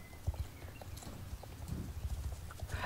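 Horse hooves clip-clop in a quick, uneven rhythm on a hard surface in the video game Star Stable, fairly quiet and close, with no speech.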